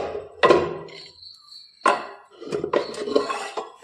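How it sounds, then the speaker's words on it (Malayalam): Dishes, pots and pans clatter as they are gathered in a home kitchen before washing, with sharp metallic knocks around half a second and near two seconds, then a busier run of clinks and scrapes, close and fairly loud. "അപ്പം ആദ്യം നമ്മൾ കഴുകാനുള്ള പാത്രങ്ങളെടുത്ത് കൊണ്ടുവെക്കട്ടെ"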